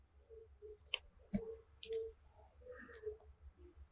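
A computer mouse clicks while navigating a website dashboard, making a few faint, sharp, isolated clicks with sparse light handling noise in between, close-up and quiet, no one speaking.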